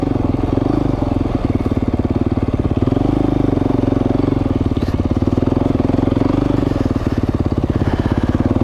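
A dirt bike rides off-road on a singletrack trail in Idaho, running on a heavy-duty tire and tube, its engine a steady, close, loud buzzing drone that holds throughout with slight rises and falls in revs.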